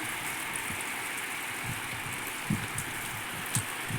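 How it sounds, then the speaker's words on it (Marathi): Steady rain hisses evenly throughout, with occasional heavier drops tapping nearby; no voices. "माझा पाऊस आलाय परत"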